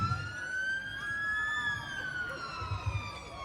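A West Sussex Fire and Rescue Service heavy rescue tender with a crane, arriving at a 999-day road-collision demonstration in Chichester, its siren wailing in long, loud, steady sweeps over low road rumble.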